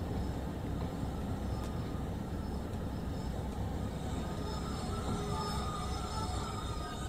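Train pulling into a platform in Train Sim World 2 on the West Cornwall Local line, a steady low rumble of rolling rail noise with faint wheel squeals, continuous throughout.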